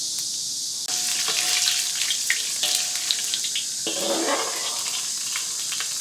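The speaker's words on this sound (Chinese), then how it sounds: "把大料炒香，捞出来不要。" Sichuan peppercorns, star anise and dried chilies stir-fried in a wok with ginger slices and onion, a steady close sizzle with occasional scraping and clatter, no talking.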